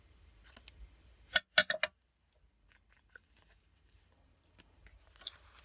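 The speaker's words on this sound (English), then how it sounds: "I'm going to snip that" Scissors snip through vintage craft paper in a quick close cluster of crisp cuts, followed by a few faint ticks and light handling noises in a quiet room.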